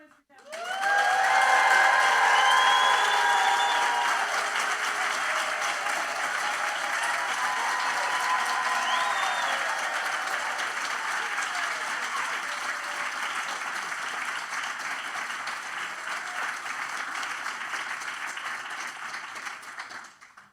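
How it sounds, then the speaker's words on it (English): Audience at the 2024 Environmental Educator Award ceremony breaks into loud, sustained applause with whoops and cheers, swelling quickly and then holding steady for about twenty seconds before tapering off. "Make some noise for Katharyn"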